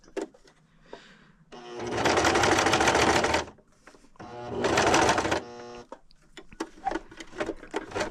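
Sewing machine stitching straps in two loud, steady runs of a second or two each, separated by quieter clicks and handling noises as the fabric is adjusted.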